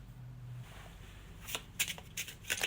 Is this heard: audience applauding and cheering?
no